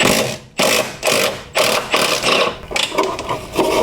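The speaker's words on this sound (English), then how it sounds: "I'm just going to use a ratchet to get in here and undo this bolt." A ratchet undoes an engine mount bolt on a B-series Ford Falcon, sounding as loud close bursts of rapid clicking in about six back-and-forth strokes, each a rasping buzz of pawl teeth.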